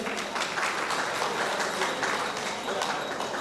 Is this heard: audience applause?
yes